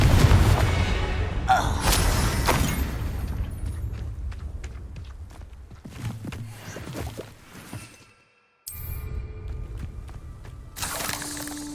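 A Confringo explosion spell in Hogwarts Legacy goes off with a loud boom and a rushing blast, followed by scattered impacts and crackles that fade, then a brief silence.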